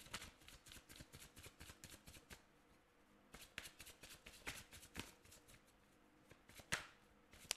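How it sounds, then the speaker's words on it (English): Tarot cards are shuffled loudly by hand in quick, crisp bursts of riffling and slapping, close up, with a short lull partway through before the shuffling resumes and ends with a few sharper snaps. "Loud shuffle."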